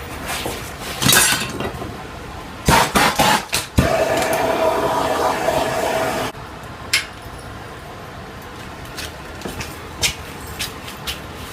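Hammer blows strike a forge weld on two hot metal tips of a treble clef coat hanger, a burst of sharp ringing clanks in quick succession, then a stretch of roaring forge noise and a few scattered lighter taps.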